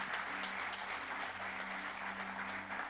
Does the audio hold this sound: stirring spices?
no